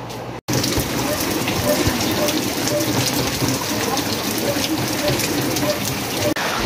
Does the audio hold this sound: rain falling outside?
yes